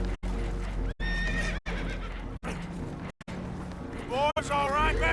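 Horses neighing and whinnying in Red Dead Redemption 2, with spooked, rising whinnies cutting through continuous clip-clop and a low rumble of water and boat noise as voices speak over it.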